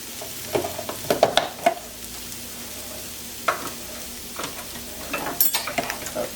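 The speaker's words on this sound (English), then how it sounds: "about 2 tablespoons of butter. Let that melt." Butter melts and sizzles in a pan alongside cooked mushrooms and onions, a soft steady frying hiss broken by several clattering stirs and scrapes of a utensil against the pan.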